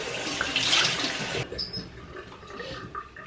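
Warm tap water runs strongly into a bathroom sink for a face rinse, a loud steady gush that cuts off abruptly, followed by quieter splashing and dripping.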